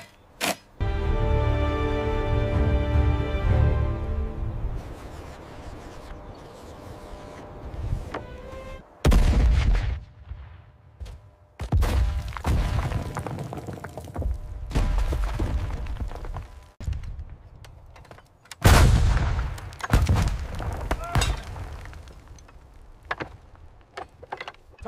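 Siege cannons fire in several heavy booming blasts, each with a long rumbling decay, spaced a few seconds apart and loud, with no voices.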